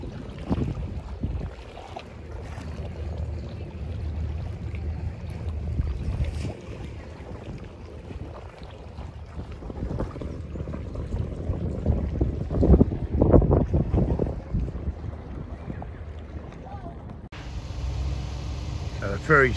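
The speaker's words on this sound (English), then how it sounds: "So the ferry's just pulled in, and we'll get ready to board" A passenger ferry arriving at the Macleay Island jetty in Queensland, Australia, gives a low, rumbling engine and water wash with wind buffeting the microphone, while someone talks over it.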